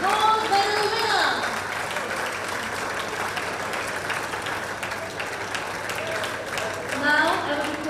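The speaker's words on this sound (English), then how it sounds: "please put your hands together for a round of applause for the 10-meter air rifle men gold medal winner" A crowd applauds steadily at an ISSF shooting World Cup ceremony in Bhopal, India, honoring the men's 10-meter air rifle gold medalist, with continuous clapping filling the hall as an announcer's amplified voice speaks over it at the start and end.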